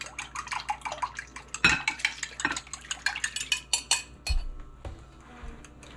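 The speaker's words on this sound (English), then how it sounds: "Let's mix our milk, coconut water, and eggs," Milk, coconut water, eggs and vanilla are whisked together for banana pancake batter, with quick clinking of a utensil against a bowl and soft liquid stirring close by, irregular taps and scrapes, no talking.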